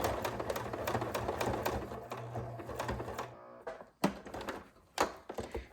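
A sewing machine stitches an apron seam in a steady, quiet whirring run for about three seconds, then stops, leaving scattered light clicks and fabric handling taps.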